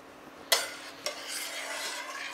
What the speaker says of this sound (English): And we want to stir this